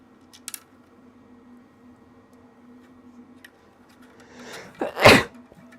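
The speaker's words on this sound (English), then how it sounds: "I don't know why I'm sneezing so much." A single loud sneeze bursts out near the end after a quiet stretch of faint background hum and a couple of small clicks.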